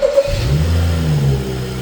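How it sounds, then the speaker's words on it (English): A BMW M135i engine fires up after a cam cover replacement, a loud close start with a quick rev flare that settles into a steady idle, with no voices. "I'm going to go for the first start."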